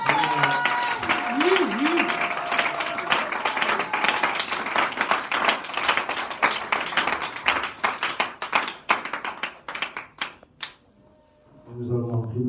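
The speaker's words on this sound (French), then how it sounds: "Acclamez pour le Seigneur." A church congregation breaks into loud, sustained clapping and cheering that thins into scattered claps and fades away, while voices call out over it.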